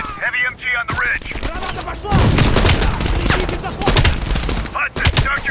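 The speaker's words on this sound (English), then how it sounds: "Heavy MG on the ridge!" Heavy machine gun fire in Call of Duty: Black Ops Cold War, loud dense bursts of rapid shots and booming impacts filling the scene, with battle chatter mixed in.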